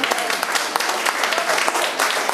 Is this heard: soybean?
no